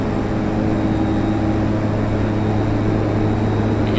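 Small airplane engine on approach to St. Barts runway 10, a steady droning hum with a low tonal throb holding loud and even throughout as throttle is brought in, no voices over it.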